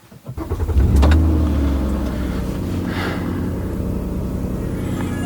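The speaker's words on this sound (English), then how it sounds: "let's go ahead and start this car up." A car engine cranks and catches, then settles into a steady, loud idle rumble close by, with no one talking over it.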